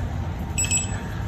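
Torque wrench beeping while tightening lug nuts during a rear brake pad replacement on a 2020 Mercedes GLE 350, giving a short pair of quiet, high electronic beeps over steady background noise.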